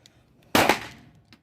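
A single sharp gunshot from an Özkursan Lagant at an indoor shooting range cracks loudly up close, then its echo trails off over about half a second within an otherwise quiet space.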